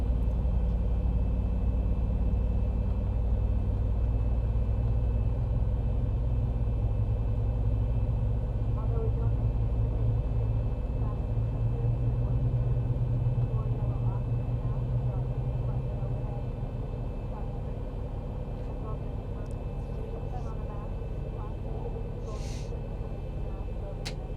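A Boeing 737-800 jet engine spools up in the X-Plane 11 flight simulator, a steady loud whine and rumble building from the cockpit with a continuous low drone.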